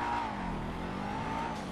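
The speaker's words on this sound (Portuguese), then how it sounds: "deixa eu dar uma acelerada aqui" A car accelerating on a highway in GTA V, its steady engine drone holding a rising and falling tone throughout, loud and continuous with no talk over it.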